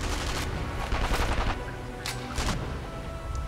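Gunfire in the shooter game Sniper Elite V2, a dense volley of loud close shots and booms in quick irregular bursts, thinning to a few sharp cracks with no talk.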